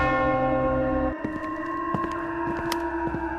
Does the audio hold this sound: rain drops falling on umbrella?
no